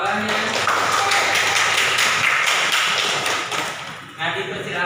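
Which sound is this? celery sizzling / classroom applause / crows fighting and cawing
classroom applause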